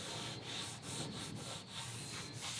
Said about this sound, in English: I'm gonna sand it more